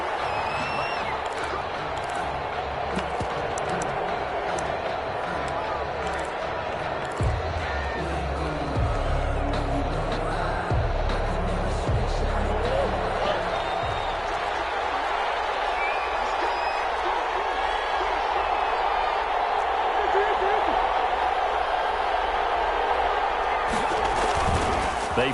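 A stadium crowd roars in a video game American football match between the Carolina Panthers and Minnesota Vikings, a dense steady wall of cheering with occasional thumps as a commentator talks over it.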